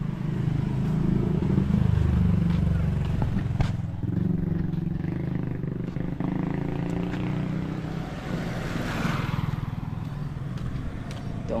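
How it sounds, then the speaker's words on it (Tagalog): A motorcycle ridden at seven in the evening, its engine droning steadily and loudly throughout with wind rush, the pitch wavering slightly as it travels, no voices over it. "Ito ang ating motor."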